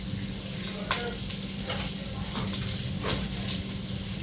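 Tomato stirred into smoked pork chop stew with chile strips in a hot pan, a steady close sizzle with a few soft stirring scrapes and pops.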